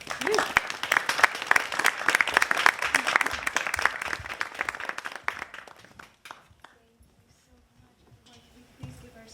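An audience claps and snaps fingers after a live stage performance: dense, fairly loud applause for about six seconds, then thinning to a few scattered claps in a quieter room.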